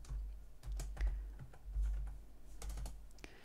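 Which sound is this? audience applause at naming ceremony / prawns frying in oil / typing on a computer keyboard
typing on a computer keyboard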